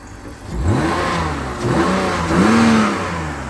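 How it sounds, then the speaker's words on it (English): A BMW E46 car engine revs up several times in a row, rising and falling in pitch, fairly close and loud with no talking over it. "Listen to this engine though."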